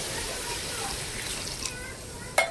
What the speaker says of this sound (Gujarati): હવે આપણે એમાં પાણી નામી દઈશું.